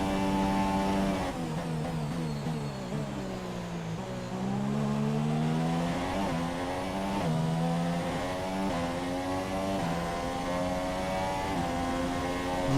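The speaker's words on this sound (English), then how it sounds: "I love the sound of this car" A Formula 1 car engine in the video game F1 2017 roars steadily at Bahrain, its pitch climbing and dropping through gear shifts, with a second engine audible alongside; loud and continuous with no talking.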